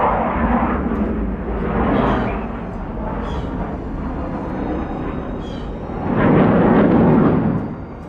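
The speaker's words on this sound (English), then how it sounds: "looks like we got a couple F-15s flying overhead. You kind of hear them a little bit." A pair of F-15 fighter jets passes overhead on an Arizona highway, a low, distant broadband roar that swells twice, the second surge louder and longer, with no talk.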